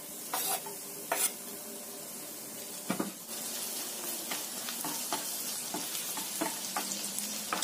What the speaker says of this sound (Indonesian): Kita tumis dulu bawang putih dan juga bawang bombaynya yang kita cincang kasar tadi